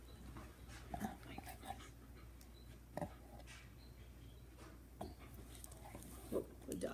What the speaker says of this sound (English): the dogs are back.